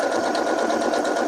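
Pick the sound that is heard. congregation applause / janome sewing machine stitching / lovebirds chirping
janome sewing machine stitching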